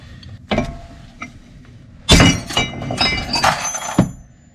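Metallic clinks and ratcheting taps from a 1/2 inch socket wrench working a tie rod nut on a Porsche 996, with a few sharp knocks early, then a denser burst of close clanking.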